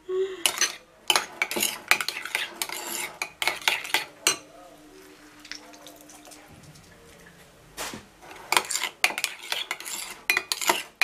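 Shrimp salad being mixed in a dish, bursts of utensil clinks and scraping against the bowl in uneven clusters, close up, separated by a quieter stretch with a low hum, no talking.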